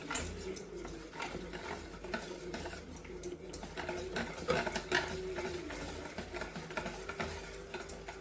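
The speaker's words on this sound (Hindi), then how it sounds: "अच्छे से मिक्स करेंगे ताकि कोई लम्स ना रहे।" Kadhi batter with yogurt being stirred with a spoon in a bowl, making steady scraping and clinking taps against the sides that run continuously with no talking.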